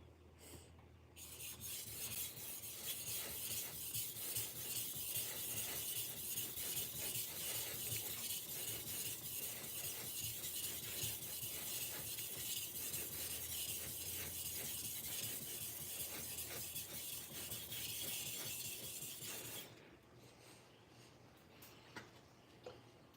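Kitchen knife scraped across a Shapton whetstone in a steady, continuous rasping stroke rhythm, close and loud for most of the stretch, then stopping abruptly near the end to leave a quiet room.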